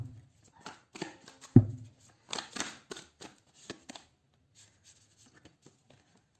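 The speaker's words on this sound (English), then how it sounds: "So let's pull some cards from universe where this relationship is headed on." Tarot cards are shuffled and pulled by hand, giving soft papery riffles, taps and slides in short bursts, then a quieter stretch with a few light clicks; a faint voice briefly murmurs.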